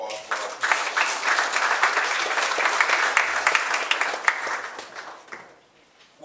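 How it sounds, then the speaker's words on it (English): Audience applause at a community and police town hall, a dense wash of many hands clapping loudly for several seconds before thinning out and fading to near silence at the end. "let's give a warm round of applause for our people"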